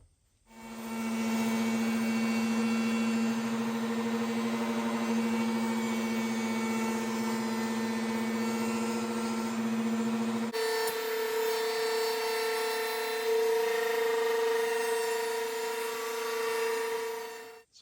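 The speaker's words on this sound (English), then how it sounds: "So I'm ready to route some edges." A router cuts bearing edges on a Ludwig drum shell, a loud sustained high-speed whine close up that shifts pitch abruptly partway through as the cut continues, with no talking.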